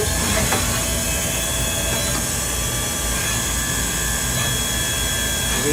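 A Tsugami BS32CIII CNC Swiss lathe with its spindle running at full RPM, a loud, steady, dense machine whir with a constant high tonal whine that holds unbroken throughout, with no speech.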